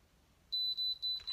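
Curl Secret hair curler signalling with a run of short, high electronic beeps, clear and close over near silence.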